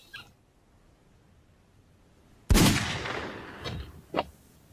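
A gun is test-fired in a film scene: one sharp, loud shot rings out after a quiet stretch, followed by two fainter, quicker reports.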